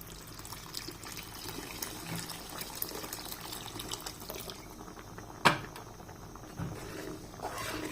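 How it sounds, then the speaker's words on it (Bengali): Hot water poured into a pot of simmering ghugni, a spiced dried pea curry, a soft continuous splashing pour close by with a brief sharp clank midway, no talking. "এবার এতে গরম জল দিচ্ছি।"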